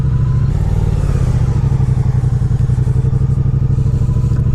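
A 2017 Triumph Street Cup with its 900cc high-torque Bonneville twin runs steadily up close, a loud, continuous low throbbing rumble that holds through the whole stretch without any voice over it.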